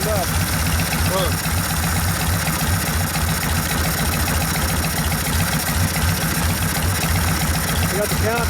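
A 1972 Harley-Davidson Sportster Ironhead motorcycle engine, warmed up after a rebuild, idles with a steady low lumpy pulse throughout, loud and close, with faint voices in the background.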